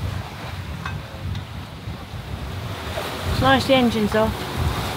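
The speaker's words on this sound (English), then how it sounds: "I have to say, this swell is a lot bigger than I anticipated." Ocean swell rolls and washes around a sailboat under way with its engine off, a constant rushing surge with wind noise while a person talks over it.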